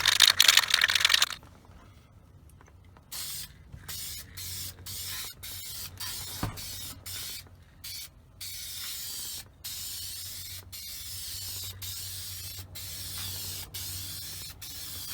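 A spray paint can hisses at a car dashboard, opening with one long loud burst, then a quieter stretch, then many short spray bursts in a fairly regular rhythm of near, evenly spaced pulses.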